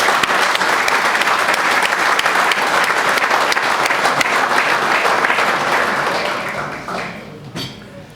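A crowd at a high school football preview night applauds the local coaches, a dense burst of clapping that carries on steadily before tapering off near the end.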